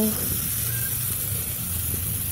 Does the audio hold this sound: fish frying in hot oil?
yes